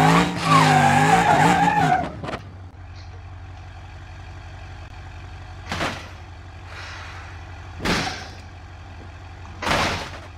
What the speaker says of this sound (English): We have made a drag car, which is really uncontrollable.